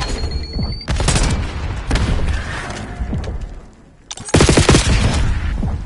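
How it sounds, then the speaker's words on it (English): Gunfire in the Black Ops 6 video game, loud bursts of rapid automatic shots with heavy booms, pausing briefly before another intense burst near the end. "guy shooting from the other building"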